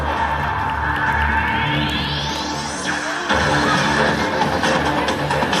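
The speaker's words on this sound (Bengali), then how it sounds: "ওদের জন্য একটা জোরে হাততালি, ওদের সাহসিকতার জন্য" An audience at a magic show at the Naihati Utsab festival cheers and whoops loudly, a sustained crowd roar with a rising electronic sweep and music underneath, lifting again near the end.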